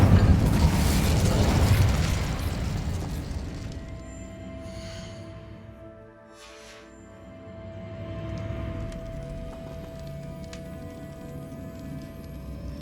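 A fire spell burst in Hogwarts Legacy: a loud whooshing blast at the start that fades over several seconds, then a steady tone and low rumble with a second swell of roar later, no voices.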